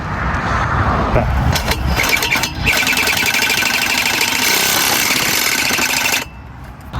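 A Sawzall reciprocating saw cuts through the exhaust pipe of a 2008 Chevy Avalanche during a Flowmaster Flow FX install: loud, harsh, continuous rattling buzz up close, then stopping abruptly near the end.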